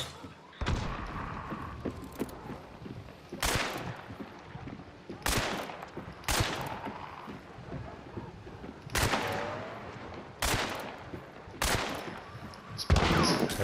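Gunfire in a multiplayer shooter: about seven sharp, loud shots spaced a second or two apart, each with a short ringing tail, over steady low game ambience with no talk.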